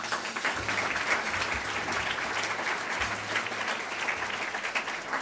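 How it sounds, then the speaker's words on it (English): Steady applause from an audience at a university event on African food security, honoring event planning colleagues; even clapping continues evenly throughout, with a faint low rumble coming and going beneath it. "Let's give them a round of applause."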